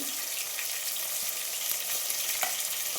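Chopped onions, green chillies and mint fry in a pan as a continuous, even sizzle close by, with faint stirring ticks and no voices.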